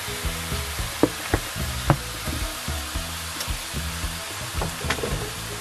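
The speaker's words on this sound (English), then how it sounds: "The pot was already heat up, so I added the liver." Beef liver sizzles in a hot, unoiled pan, a steady close frying hiss broken by a few sharp crackles and pops, with no voices.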